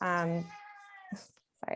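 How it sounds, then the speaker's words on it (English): A house cat lets out a single clear, close meow, followed by a person briefly speaking. "that's my cat"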